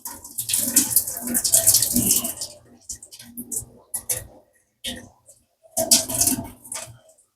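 Water pours and splashes in uneven gushes as it drains from a lidded cooking pot, with voices talking close by between the bursts.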